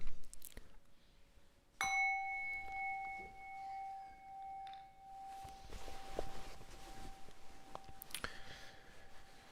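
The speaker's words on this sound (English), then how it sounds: "So I'm going to ring the bell." A meditation bell struck once during a live guided meditation session, a clear bright ring that sustains and slowly fades over several seconds in a quiet room, with faint background shuffling afterward.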